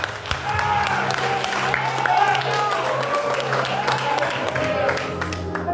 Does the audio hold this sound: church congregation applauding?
yes